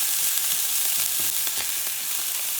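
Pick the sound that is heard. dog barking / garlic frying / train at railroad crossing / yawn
garlic frying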